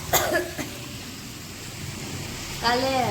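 Steady rain hiss in the background, with a cough near the start and a voice speaking briefly toward the end.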